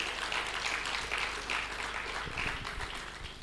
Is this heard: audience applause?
yes